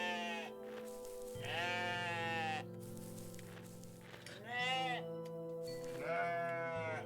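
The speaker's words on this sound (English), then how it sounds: "Oh, sheep!" Sheep in the video game OneShot bleat in a few wavering, tuneful calls, with a steady low musical drone underneath and short gaps between them.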